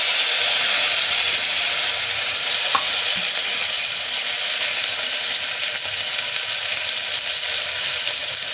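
Mint leaves are stirred into a frying naati-style boti biryani masala, producing a dense, continuous sizzle and hiss close up, with a faint spoon scrape at one point and no talking.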